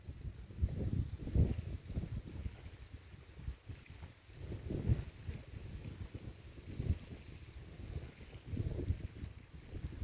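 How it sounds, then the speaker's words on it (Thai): Strong wind gusts blowing outdoors near a boat on the water, a steady low roar of wind buffeting the microphone that swells and eases in several surges over ten seconds, with no voices. "น้ำลมพัดแรงน่ะนะ"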